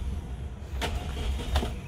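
A 2004 Suzuki Karimun GX car engine starting, with two short bursts of starter cranking heard close over a low steady rumble.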